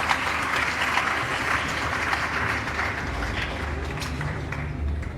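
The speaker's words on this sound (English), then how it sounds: "Shall we please applaud him?" Steady applause from a crowd at a university graduation ceremony, a continuous patter of many hands clapping at moderate volume throughout.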